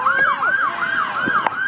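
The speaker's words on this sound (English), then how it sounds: "There's a police car." A police car siren wails nearby on a city street by a freeway, its pitch sweeping up and down in steady, repeated cycles, loud and continuous, with a brief sharp click near the end.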